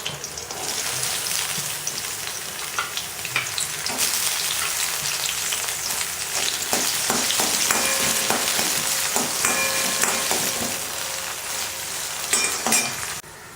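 Cashews and raisins frying in ghee in a pan for cashew payasam, a steady close bubbling sizzle with scattered crackles and light spoon scrapes, no talking.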